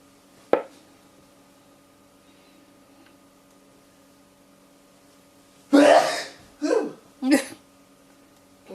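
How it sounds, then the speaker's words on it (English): A few short, sharp coughs burst out close by after a long quiet stretch, with a faint hum in the background. "It's his cold that's making him cough"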